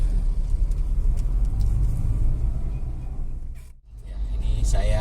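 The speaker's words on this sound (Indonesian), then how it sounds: "ini saya bertemu dengan bis angkutan umum zaman masa kecil saya sampai dengan sekarang itu ada ya ini" A Bagong public bus on the road in Blitar rumbles past nearby, a loud engine drone that fades briefly before more traffic noise swells again.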